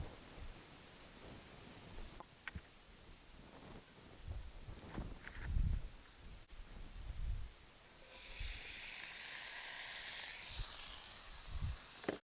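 Sausages laid on grill grates over an open fire start to sizzle, a steady hiss rising partway through and holding, with scattered knocks and handling noises around it.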